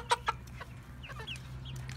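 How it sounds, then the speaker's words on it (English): Rooster or chickens on a farm with new chicks, giving two short loud clucking calls near the start, followed by fainter chirps and bird calls over a steady low hum. "I heard him rooster. Crow."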